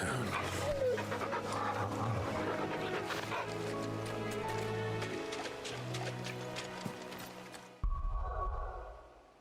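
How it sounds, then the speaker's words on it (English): A hound in Final Fantasy XVI barks, pants and whimpers over a dense, loud game music score, ending in a sudden thump before quieter tones. "What a fine hound."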